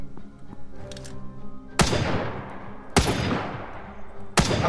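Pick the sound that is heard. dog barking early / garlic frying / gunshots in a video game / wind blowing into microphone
gunshots in a video game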